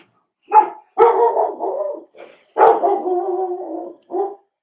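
A dog barks and yowls close by in drawn-out, talkative bursts, several long vocal howl-barks with short gaps between them and no voices over them.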